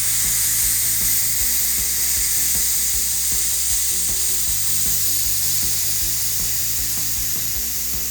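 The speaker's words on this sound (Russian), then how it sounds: "у нас есть специальный болтик для того, чтобы спустить давление с резервуара." Air escapes from the pressure reservoir of a Leshiy air rifle through a release bolt, giving a loud, steady hiss that lasts the whole stretch, with faint clicks beneath it.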